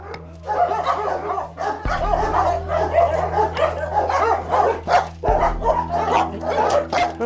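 An aggressive dog barks repeatedly from its kennel in an animal shelter, sharp close barks mixed with yips and whimpers over a low steady hum, with echoing clanks now and then.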